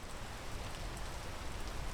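Steady hiss of rain falling in the climbing game PEAK, a dense even patter with no pauses, fairly quiet and alone.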